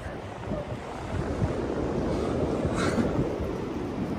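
Waves wash onto a beach under steady wind buffeting the microphone, a continuous broad roar with a surge building midway.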